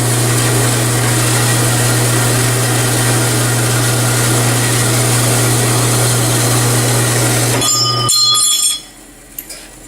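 A horizontal bandsaw slowly cuts through metal stock with a loud, steady grinding whir over a low motor hum, running continuously until it cuts off abruptly near the end, leaving a few faint clicks.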